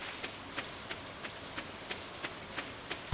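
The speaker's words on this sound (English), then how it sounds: "Oh, look, it's raining." Rainfall in Stardew Valley hisses steadily and softly, with faint rhythmic ticks repeating roughly every third of a second over the wash.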